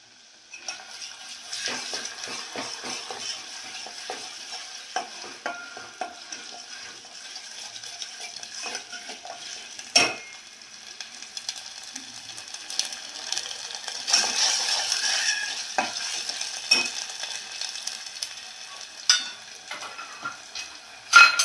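Black masala paste is added to a frying mackerel curry and stirred in, giving quiet sizzling with scattered spoon-against-pan clinks and scrapes.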